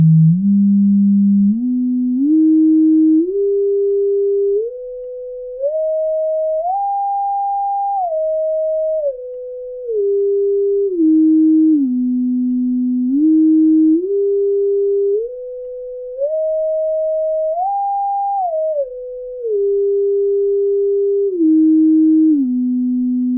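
Sine test tones around 400 hertz step up and down in pitch in a repeating rising-and-falling pattern through Kali Audio IN-UNF speakers, clean and steady with no talk.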